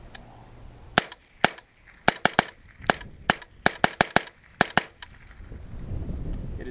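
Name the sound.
AR-15 firing .22 Long Rifle rounds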